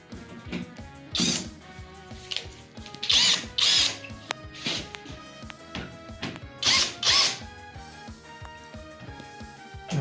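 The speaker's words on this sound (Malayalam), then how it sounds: "we're fixing the wood with the screws." Power drill driving screws into the wooden frame of a boat under construction, several close, loud whirring bursts of a second or so each, separated by short pauses and clatter.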